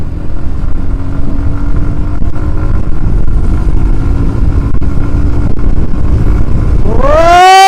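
Suzuki motorcycle engine droning steadily while riding along a road in Bangladesh, loud and close with a low hum, then a sharp revving rise in pitch at the end.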